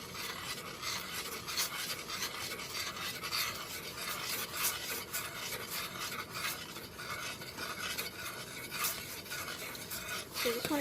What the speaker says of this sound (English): it's starting to boil. So I'm just going to give it a quick stir just so that it dissolves evenly.